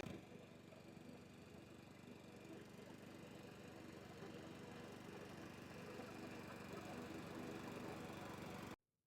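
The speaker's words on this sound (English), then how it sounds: "We did have a little bit of a hiccup over here to get our lawnmower over the newly built drainage" A lawnmower engine runs steadily on a soccer field, a loud, even droning hum that holds for about nine seconds before cutting off abruptly.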